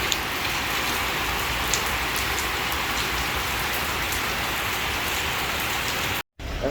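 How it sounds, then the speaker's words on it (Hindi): Steady rain falls during a winter trip through Pakistan, a dense, even hiss of drops on surfaces that runs close and loud without a break, then cuts out sharply for a moment near the end. "और ये देखें हकीकत में भी बारिश शुरू हो गई"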